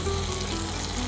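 Meat frying with spices in a pan, a steady close sizzle with faint stirring, alone without talk.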